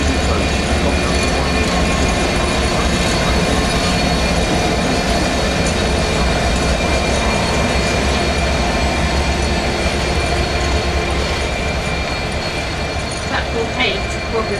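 A train rumbles through Doncaster station, loud and close, with continuous rolling wheel noise, faint clicks and a high squeal late on, while station sounds and voices mix in.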